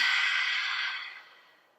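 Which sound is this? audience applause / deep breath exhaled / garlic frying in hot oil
deep breath exhaled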